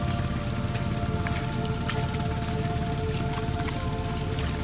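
Steady rain patters through a forest near North Salimpur, a dense continuous hiss with scattered drips, close and even throughout with no voices.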